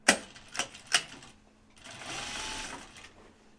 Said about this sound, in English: we're going to sew it closed here at the bottom